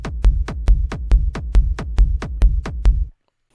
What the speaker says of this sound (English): It's a good kick, it's a hard techno kick with distortion